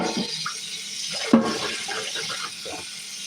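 A jar is rinsed under running tap water, a steady close splashing rush with a brief clunk of glass about halfway through, moderately loud, with no voices.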